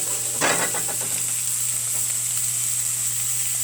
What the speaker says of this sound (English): I just like to start hearing the sizzle